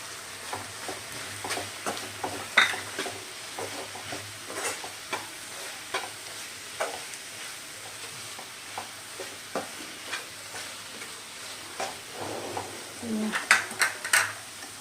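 Masala sizzles in a pan while being stirred for a Kerala squid (koonthal) roast, with chili and coriander powder going in. Repeated scraping stirs and soft frying hiss continue steadily, growing busier near the end.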